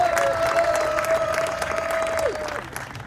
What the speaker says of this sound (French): Applaudissez très fort pour papa.